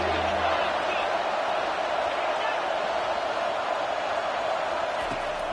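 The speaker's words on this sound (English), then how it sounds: "Third down, and this crowd is tearing the lid off this place." A big football stadium crowd roars without a break on third down in a college game, a dense, loud wash of cheering heard from far off under an excited commentator's voice.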